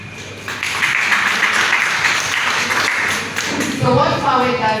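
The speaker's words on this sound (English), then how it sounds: "Let's give them a round of applause." Audience applause at a women educationalists' celebration in Liberia, a steady crowd clapping that swells after half a second and holds for several seconds, with voices mixed in near the end.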